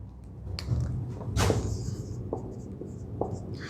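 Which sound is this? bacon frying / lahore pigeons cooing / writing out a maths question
writing out a maths question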